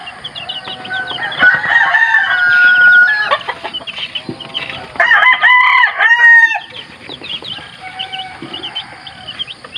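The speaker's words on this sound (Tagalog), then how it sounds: "Dahil ginugutom na po talaga itong sisiw ko eh" A flock of chickens clucks and crows in a steady, fairly loud chorus, with calls layered close together and a louder burst of crowing partway through, while a young chick waits hungrily for feed.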